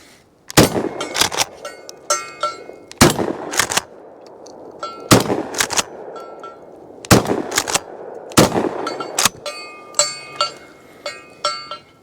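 Benelli Nova 3.5-inch pump shotgun firing Federal Top Gun 7.5 shells: five loud, sharp blasts at irregular intervals over twelve seconds, each with a short ringing tail and pump-action clatter between shots.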